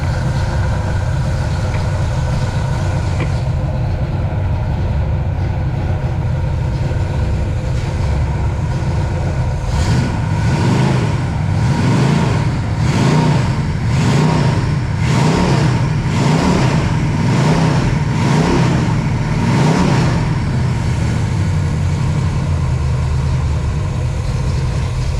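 A Pontiac 421 V8 with big valve heads and a performance cam idles loudly and roughly, then revs repeatedly in a rhythmic series of climbs and drops before settling back to idle.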